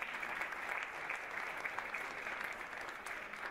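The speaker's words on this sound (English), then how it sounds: "So let's give them a round of applause for that." An audience applauds the event organizers with a steady, fairly soft wash of clapping from a large group, sustained evenly and heard from a little distance.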